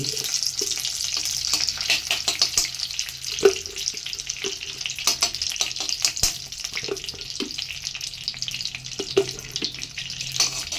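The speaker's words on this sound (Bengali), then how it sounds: "ঘিটা গরম হয়ে গেছে তো আমি এলাচ দারচিনি লবঙ্গ তেজপাতা দিয়ে দিলাম" Whole cardamom, cinnamon, cloves and bay leaf sizzle in hot ghee in a kadai for basanti polao, a continuous bright crackling hiss dotted with small pops and occasional light clinks, close and fairly loud.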